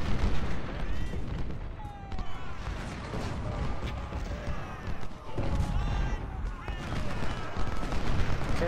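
Massed Civil War battle gunfire from Ultimate General: Civil War rolls on continuously, with dense musket volleys and distant booming artillery blending into a thick, rumbling din, plus brief tonal whistles and a voice speaking over it.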